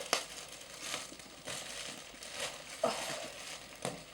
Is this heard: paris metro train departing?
no